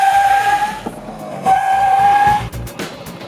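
Bajaj Qute quadricycle with drum brakes all around and no ABS braking hard from 50 kph: loud tire squeal in two drawn-out bursts over road and engine noise, ending in a short scrub.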